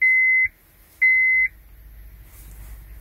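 Two short, clean electronic beeps from a THINKSAFE OBD2 Bluetooth scan tool plugged into a 2009 Honda Civic EX-L, each about half a second with a pause between, sounding close and clear before a low background rumble.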